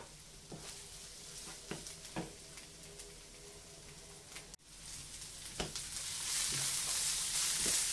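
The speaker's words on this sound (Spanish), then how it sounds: "Ya tenemos casi la cebolla y ahora la vamos a subir a fuego fuerte." Onion frying in a pan over high heat, a steady sizzle with occasional crackles and a few stirring knocks, growing louder and hissier toward the end.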